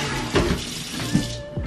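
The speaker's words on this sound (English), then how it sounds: "So all I do is I just rinse them like really quickly, but very thoroughly, of course." Tap water running in a kitchen sink as brussels sprouts are rinsed, a short close splashing stream with light clattering knocks.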